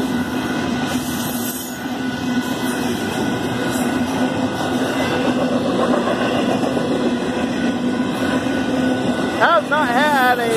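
Union Pacific 8523 freight train rolling through a rural crossing in Saint Elmo, Illinois, a loud continuous rumble of railcars with squealing wheels and a steady crossing bell, and voices faintly underneath.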